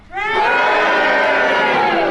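A radio panel-show studio audience bursts into loud, sustained cheering and shouting together, rising within a quarter second and holding at full volume throughout.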